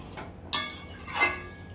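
Bata fish curry simmering in a pot is stirred with a utensil, giving a sharp metallic clink against the pot followed by a softer scrape, close and fairly quiet.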